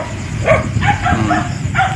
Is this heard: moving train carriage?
no